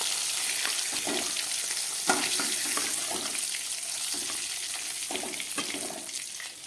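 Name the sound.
fish frying in oil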